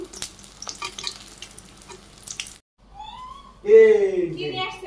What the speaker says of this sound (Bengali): এইভাবে আমি সবগুলো ভাজি করে নেব